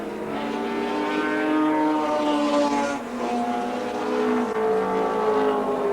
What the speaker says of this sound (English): Over the top of the hill that brings him now on this run down to a stop corner, Alan Moffat.